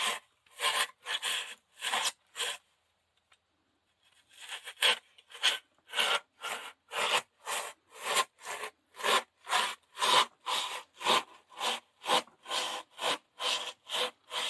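An insulation saw cutting through insulation board, a fast, even run of rasping strokes, close and loud, with a brief pause after a few strokes before the steady back-and-forth resumes.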